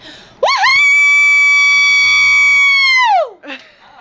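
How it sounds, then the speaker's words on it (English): A woman lets out one long, loud, sustained scream lasting about three seconds, close and clear, ending with a falling pitch and a brief breath afterward. "She's asking me to scream."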